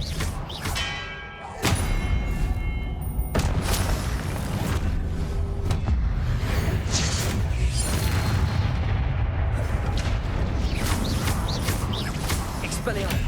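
Spell blasts from Hogwarts Legacy fire in quick succession, with booming impacts and fiery bursts piling up into a dense, loud roar of combat noise.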